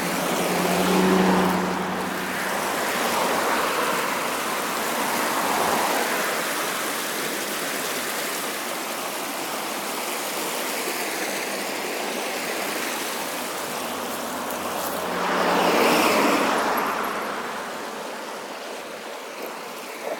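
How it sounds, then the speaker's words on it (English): Car passing on a rural road, its tyre and engine noise swelling near the start, fading into a steady wash, then rising again as another vehicle goes by; no talking. "Let me wait for this car to pass."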